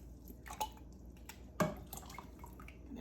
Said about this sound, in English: I'm actually going to put my water into my cans